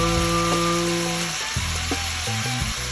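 Chorizo links, taken out of their casings for chicken chorizo enchiladas, fry in a pan while being broken up, a loud, steady sizzle with occasional tonal bursts over it.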